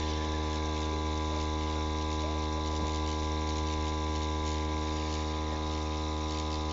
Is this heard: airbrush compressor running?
yes